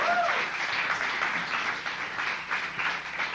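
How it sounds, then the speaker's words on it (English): Studio audience at a 1980 late-night talk show applauding as the hosts walk off, a soft, distant patter of clapping that continues throughout, lightly mixed with a brief voice at the start. "Why do they applaud when we leave?"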